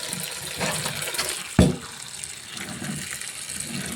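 Chopped jackfruit being washed in water, with close splashing and sloshing throughout and one sharper slosh midway, moderately quiet.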